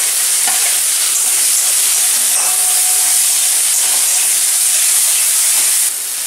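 Mango pieces drop into spice paste frying in a pan, setting off a loud, close, continuous sizzle and hiss that holds steady for several seconds before easing slightly at the end.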